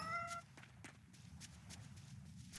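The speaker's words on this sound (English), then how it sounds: "Found a cat." A cat in the video game Tales of Berseria gives a short, clear meow at the very start, followed by soft in-game ambience and light tapping steps.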